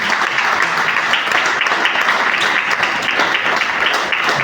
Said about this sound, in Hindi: जबरदस्त तालियां बजा दें आप